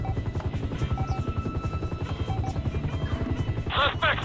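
A police helicopter in Grand Theft Auto 5 thumps with a steady, fast rotor chop close by through the whole moment, while people talk over it.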